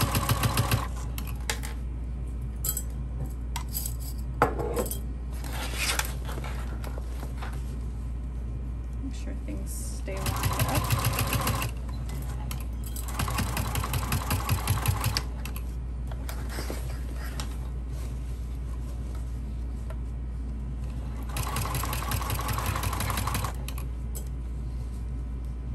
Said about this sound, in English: I'm going to backstitch over